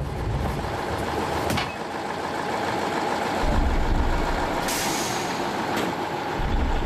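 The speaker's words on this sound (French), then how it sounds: "La remorque fait prudemment marche arrière jusqu'au pied de la colline." A semi-truck loaded with gravel backs slowly down a Siberian ice road, its engine a steady near rumble with a brief air-brake hiss and louder swells of low engine noise throughout.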